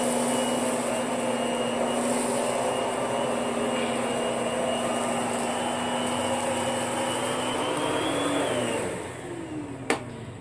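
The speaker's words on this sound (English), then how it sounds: "I didn't even vacuum past that certain point because I was looking at the camera and not the carpet" Electrolux upright vacuum cleaner with a swivel power nozzle running on carpet, a steady close motor drone that winds down near the end with a small knock.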